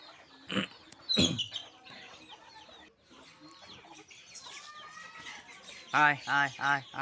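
Domestic village chickens cluck while eating, with scattered soft clucks and short calls, then a run of loud rhythmic clucks near the end, under faint background noise.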